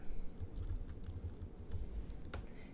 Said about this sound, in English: Just go ahead and type in your username after that.